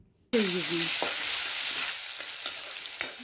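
Ripe sliced tomato cooks in a pan with ginger and garlic for a dhaba-style Punjabi dum aloo. A steady close sizzle is punctuated by occasional spoon clinks and stirring scrapes, with no voices.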